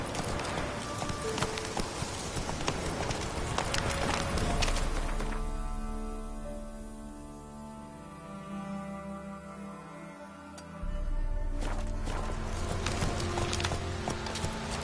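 Horse hooves galloping in The Witcher 3, a continuous rapid clip-clop rhythm that is loud and close, easing briefly in the middle before surging again, with game music and ambience underneath.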